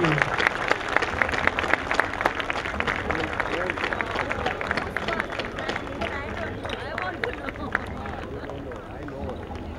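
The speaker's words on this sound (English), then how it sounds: "A big round of applause, ladies and gentlemen" Sustained crowd applause at a 2015 closing ceremony, a thick fast patter of many hands that stays loud, with a voice carrying over it.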